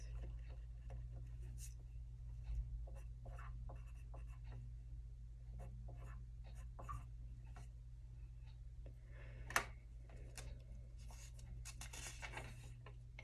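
A pencil scratches out a fraction on a paper recording sheet during a Jenga math activity, with faint, quiet strokes and small taps in a hushed room.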